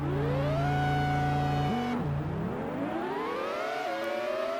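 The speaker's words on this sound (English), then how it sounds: "The sound of the car's engine is wild. It reminds me of those electric drills they use at the dentist's office." Shrill synthesized racing car engine whine from the N64 game Racing Simulation: Monaco Grand Prix, loud and continuous, holding a steady pitch, dropping sharply at a gear change, then climbing steadily again, with no talking.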